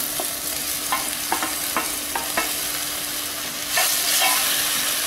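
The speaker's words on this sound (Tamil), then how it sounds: "இப்போ தக்காளி பழத்தையும் சேர்த்து வதக்கிடுவோம்." Tomatoes and onions sautéing in a pan for a Tamil jeera chutney, a steady sizzle punctuated by several light spatula taps, growing louder and hissier toward the end.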